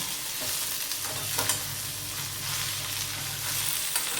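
Okra sizzles steadily in a hot pan while being stirred, a continuous bright frying hiss with soft scraping and clinking from the stirring.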